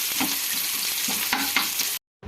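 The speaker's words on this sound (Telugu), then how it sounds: "ఆయిల్ హీట్ అయిన తర్వాత మనం కట్ చేసిన ఆనియన్ ముక్కలను వేసి మనం గోల్డెన్ బ్రౌన్ కలర్ వచ్చేంత వరకు" Chopped onion pieces fry in hot oil in a pan, giving a loud, continuous sizzle with rhythmic stirring scrapes, ending in a sudden cut.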